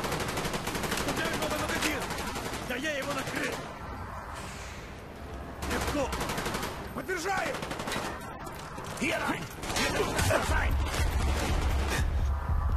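Rapid automatic gunfire in Call of Duty Black Ops, dense bursts of shots rattling almost continuously with short pauses, loud and close, with a voice talking at times over the shooting.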